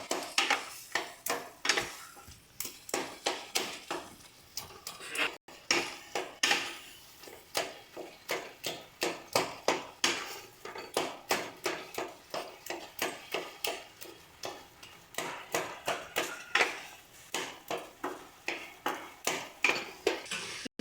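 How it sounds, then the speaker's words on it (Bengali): A utensil stirs taro with turmeric, salt and spices in a pan, giving a steady run of sharp scraping clicks against the metal, close and fairly loud, with no voices. "এবার সমস্ত মশলাগুলোকে ভালো করে কচুর সাথে মিশিয়ে নিতে হবে।"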